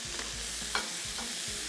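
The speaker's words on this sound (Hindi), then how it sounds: "अच्छे से कर लेंगे सौते" Raw potatoes, carrots and peas sautéing in a pan, a steady low sizzle with a few soft stirring scrapes and one brief louder clink, close and with no voices.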